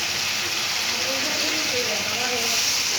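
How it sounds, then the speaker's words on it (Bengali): Water poured into hot oil in a pan for a pomfret fish curry gives a loud, continuous sizzling hiss that stays steady throughout. "তেল ছাড়তে শুরু করেছে, এবার আমি জল দিয়ে দেবো।"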